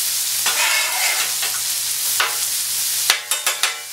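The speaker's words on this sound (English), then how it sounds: "finish grilling them onions on up" Onions sizzle and fry steadily on a hot Blackstone griddle, a close continuous hiss with a spatula scraping and tapping the flat-top several times toward the end; no one speaks.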